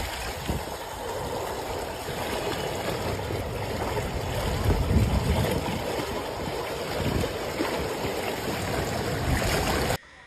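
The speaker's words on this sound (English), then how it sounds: "The floodwaters under the bridge also surged over the embankment and continued to flow into the city." Wanquan River floodwaters in Hainan, China, surging under a bridge and over the embankment into the city: a loud, steady roar of rushing water that holds without a break for about ten seconds, with no voices.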